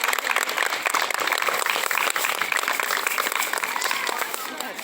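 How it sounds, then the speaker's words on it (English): An outdoor Memorial Day tribute crowd applauds military members and their families, a steady, busy patter of many hands clapping at moderate distance that tapers slightly toward the end. "if you just raise your hand so we can just applaud you."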